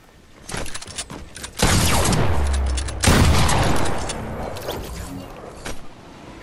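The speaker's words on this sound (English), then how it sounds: "Somebody's shooting over there" Rapid bursts of gunfire crack through a shooter video game, with dense, loud volleys rattling back to back and a few quieter pauses between them.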